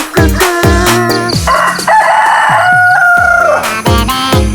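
A rooster crowing loudly and close, in a long drawn-out cock-a-doodle-doo with sharp bursts before and after it, filling the whole short stretch.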